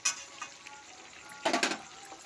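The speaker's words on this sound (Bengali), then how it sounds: "আমি এই জলেই মশলা কষিয়ে নেব।" Chicken masala being sautéed in its own released water, a soft sizzle under occasional scrapes of a spoon against the pan, with one louder stirring burst midway.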